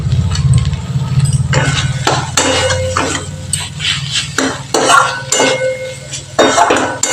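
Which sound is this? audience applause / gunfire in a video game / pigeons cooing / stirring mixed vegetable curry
stirring mixed vegetable curry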